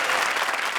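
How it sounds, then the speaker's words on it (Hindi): A comedy show audience claps loudly in a dense, sustained burst of applause that fills the whole moment. "जोरदार तालियां वीआईपी और फ्रेंड्स के लिए।"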